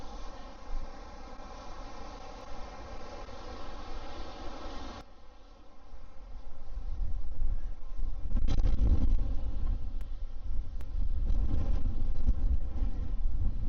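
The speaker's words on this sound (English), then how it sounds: "Wow, windy." Strong coastal wind at the Bermagui blue pool, Australia, roars and buffets the microphone, rising to a heavier, louder gusting roar partway through; no one speaks.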